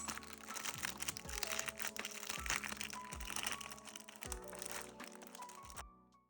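Crinkly plastic art supply packaging crackles and crunches close by as it is handled and torn open, a steady rustling that stops abruptly.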